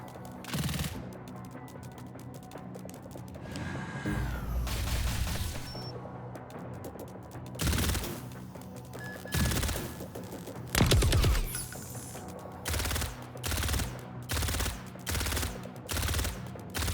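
Automated turrets in the Reverse Collapse video game unleash repeated bursts of loud gunfire, clustered volleys separated by short pauses, close and dominant with no speech.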